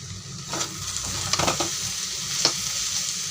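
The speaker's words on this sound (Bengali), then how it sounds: "এদিকে বটবটি আলু ভাজা করতেছি" Botboti beans and potatoes fry in a pan with a continuous close sizzle, broken by several scraping stirs and light clinks of the utensil against the cookware.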